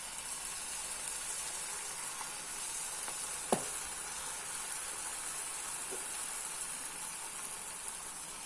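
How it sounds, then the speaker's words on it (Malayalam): Pumpkin balls fry in hot oil over a medium flame, giving a steady, even sizzle and hiss. One sharp tick stands out partway through, and no one talks. "നമ്മളുടെ എണ്ണ ചൂടായി. ഇനി ഇത് നമുക്ക് എണ്ണയ്ക്കകത്തേക്ക് ഇടാം."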